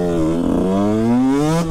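A KTM 125 SX supermoto two-stroke engine revs hard close up, its pitch climbing steadily through acceleration with a brief dip near the end.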